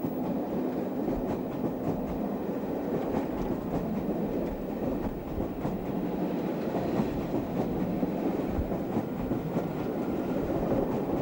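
A British Rail diesel locomotive hauls a westbound service for Newquay past Goonbarrow Junction through heather and gorse scenery in Cornwall, its steady engine rumble and rhythmic wheel clatter holding loud and close throughout.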